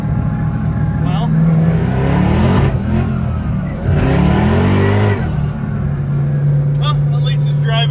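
A custom Saleen Mustang drives and revs hard, its loud engine rising and falling in steady surges close by, with people talking over it.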